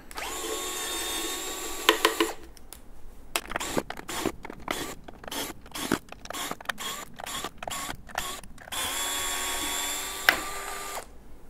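A small power driver backs 2.5 mm screws out of a wheel on a Blitz suspension, whirring in two sustained bursts at the start and end, with a clicking, rattling stretch of handling between them, close and moderately loud.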